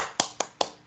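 Three quick, evenly spaced claps from students applauding in a classroom, crisp and close with nothing else heard.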